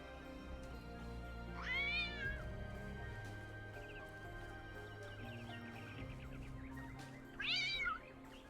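A cat in The Talos Principle II meows twice, a drawn-out, wavering call near the start and another around the end, clear and close over a quiet game soundscape.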